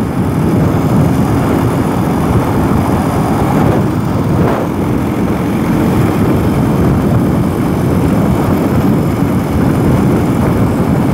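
A 2021 BMW R 18 cruiser's 1800cc twin-cylinder engine drones steadily and loudly at highway speed, a dense, unbroken low rumble mixed with wind rush and no talking.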